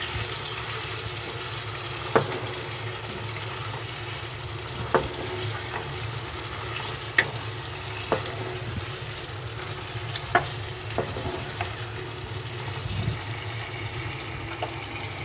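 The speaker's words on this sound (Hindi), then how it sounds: "थोड़ा से और भून लेंगे ताकि वो मसाला जो है हमारा और भी ज़्यादा आलू पे लग जाए।" Potatoes fry in spiced masala in a pan over low heat, giving a steady close sizzle with occasional clicks and scrapes of stirring, no talk.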